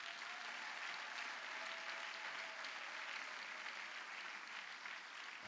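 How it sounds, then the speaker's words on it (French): A church congregation applauds steadily and loudly, a dense, unbroken wash of clapping that holds evenly from start to finish with no voices standing out. "Est-ce qu'on peut acclamer les saints très fort?"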